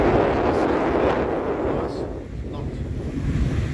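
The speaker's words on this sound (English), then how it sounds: "a little bit more windy today than it was yesterday" Wind gusts across Lake Victoria at Loch Sport in Victoria, Australia, buffeting the microphone with a loud, broad rumble that eases slightly midway before building again.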